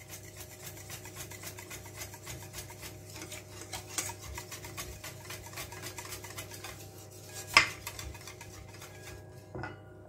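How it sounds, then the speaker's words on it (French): A utensil stirs a crustless quiche mixture in a bowl, giving steady, soft rhythmic scraping and rubbing close by, with a sharper clink near the end and no talking. "Je mélange à nouveau."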